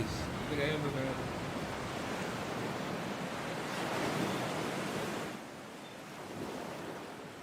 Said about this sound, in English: descend toward the sound of gentler waves